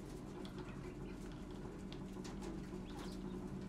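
Caged laying hens packed closely together in a warm henhouse, giving soft coos and clucks over a steady low mechanical hum that runs the whole time.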